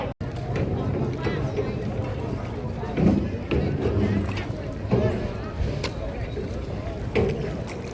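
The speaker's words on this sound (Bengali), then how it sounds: "ট্যামককের এই বোট রাইড পুরোপুরি ম্যানুয়াল।" A manually operated rowboat glides through Tam Coc, Ninh Binh, Vietnam, its rower propelling it with the feet; steady water and rowing noise runs throughout, with muffled voices and wind over it.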